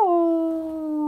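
A howling werewolf beast roars in pain with a sustained, tonal cry that holds steady for about a second, loud and close, with no other sounds.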